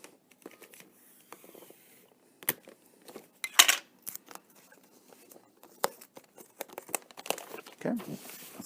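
Tape being pulled and torn during gift wrapping, with crinkling paper handled close by: a sharp rip near the middle, then scattered crackles and taps, fairly quiet, with no talking.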